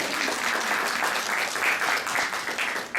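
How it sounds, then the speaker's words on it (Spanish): Lively audience applause at an academic talk on cosmic radiation effects on satellites, dense rapid clapping that swells in bursts and carries on strongly without voices. "Unos aplausos para el hombre para que se despierte."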